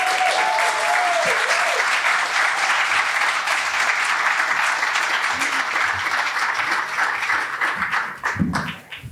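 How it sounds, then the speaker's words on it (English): A live audience at a storytelling event breaks into loud, full applause, starting with a brief whoop, sustaining dense clapping, then thinning out near the end as voices begin. "Let's give her a big round of applause."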